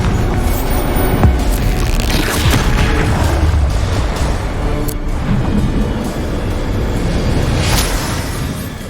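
Bombarda and Confringo spell explosions in the Hogwarts Legacy video game boom loudly and continuously, deep rumbling blasts stacking over each other with a few sharper cracks near the start and end.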